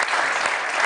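An audience claps steadily and densely through the whole stretch at a magic show, a broad wash of applause with no voices on top.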